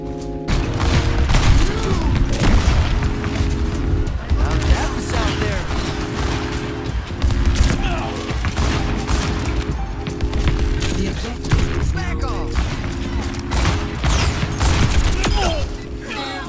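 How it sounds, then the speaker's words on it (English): Rapid bursts of sci-fi gunfire from a support hero's sound amplifier weapon in a video game, fired in repeated three-round bursts with mechanical clicks, loud and continuous over game effects. "It is one of the strongest guns that a support hero can have, and it is a 3-round burst."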